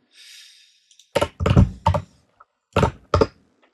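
A computer keyboard is typed on in two short bursts of close, crisp keystrokes separated by a pause, with no talking.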